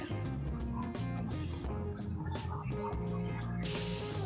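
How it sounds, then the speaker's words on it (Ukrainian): Many different birds call inside an aviary pavilion at Wrocław Zoo in Poland, a busy layered chorus of gobbling, clucking and squawking calls with sharp bursts scattered across a steady din. "в цьому павільйоні є дуже багато різних птахів"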